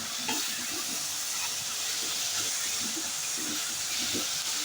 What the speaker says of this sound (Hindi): बंद गोभी को भी हमने तेज आंच पे अच्छे से इसको इसी के साथ मिक्स करना है।